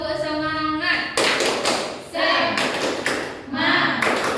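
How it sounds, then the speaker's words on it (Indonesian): Classroom of children doing a rhythmic spirit clap with the teacher, bursts of patterned hand claps and taps alternating with short pauses, loud and close, with voices calling along in between. "kita mulai tepuk semangatnya ya"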